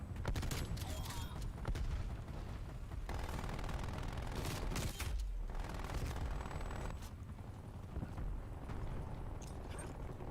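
In a multiplayer shooter video game, dense overlapping gunfire and blasts rumble loudly throughout, with a frag grenade explosion adding a heavy low burst midway amid the continuous firefight.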